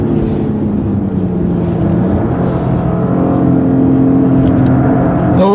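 A 2015 Acura TLX or Volvo S60 T6 mid-sized sedan engine accelerating hard, a steady loud drone with pitch climbing through the gears, heard from inside the car with no talking.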